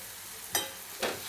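Green chillies frying in a pan, heard as two brief sizzling, scraping bursts about half a second apart over a faint background hiss, near and quiet, with no voices.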